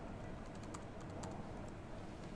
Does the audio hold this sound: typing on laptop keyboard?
yes